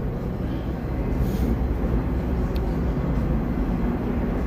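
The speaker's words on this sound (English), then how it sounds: "the train's pulling out here." Metra commuter train pulling out of a Chicago platform at midday, a steady loud low rumble with a faint high squeal, no talking.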